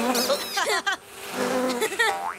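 Cartoon flies buzz and whine in wavering, sliding tones, loud and close, under an animated voice that speaks throughout.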